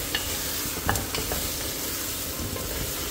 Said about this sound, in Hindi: हलाते जुलाते जाएंगे, और 2-3 मिनट हम इसको जो है ऐसे ही पकाते जाएंगे